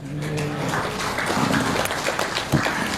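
An audience applauds during a sermon, a steady, moderate patter of clapping from a gathered crowd under a murmur of voices.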